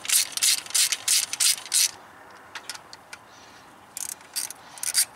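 Bolts are snugged down on a TBI throttle body of a Chevy small-block engine, heard as bursts of short, close ratcheting clicks separated by quiet pauses and a few faint ticks, with no talk.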